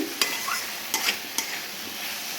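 Spice paste for ridge gourd and potato posto being stir-fried in a pan, with a steady soft sizzle and a few sharp scrapes of the spatula against the pan, close by, with no talking.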